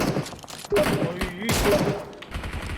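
Gunfire in the PUBG Mobile battle royale shooter during a large bridge fight: bursts of shots crack out in quick clusters, loud and close, with voices talking over them.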